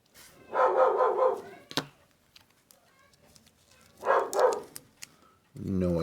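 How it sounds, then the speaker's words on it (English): A dog barks in two bursts of rapid, loud barks, the first longer and the second shorter, separated by a few seconds of quieter room with faint clicks and scattered sounds. "no idea what the dog is barking at"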